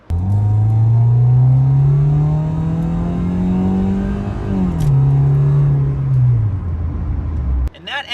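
A 1990 Honda Concerto EX's engine with a 4-speed automatic drones steadily while driving, its pitch rising slowly then dipping at a shift and holding, loud and close before cutting off abruptly.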